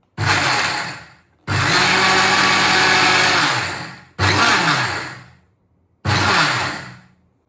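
A kitchen mixer grinder blending homemade chocolate spread runs loud and close in four separate bursts, one long and three shorter, each winding down as the motor is switched off.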